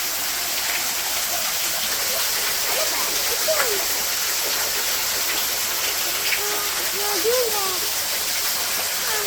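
Water pouring over tree roots in a natural spring makes a constant dense rushing wash, loud and unbroken throughout, with faint birdlike chirps above it.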